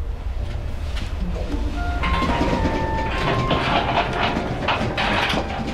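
A passenger train runs along the rails with a continuous low rumble and rattle, joined by faint tonal squeals and metallic clatter, steady and fairly close throughout.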